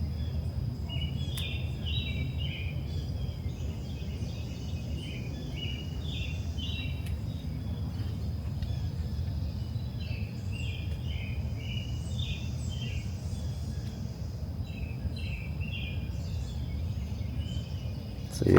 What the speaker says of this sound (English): No cars driving or anything like that. Only the birds.